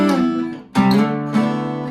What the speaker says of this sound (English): Don't hit the other string, it's gonna sound like this